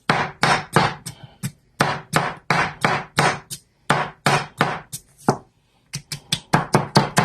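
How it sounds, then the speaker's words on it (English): An Almazan knife chops through potato on a board in a fast run of sharp, close knocks with a brief pause before the chopping resumes. "Let's see if we can chop some potato now."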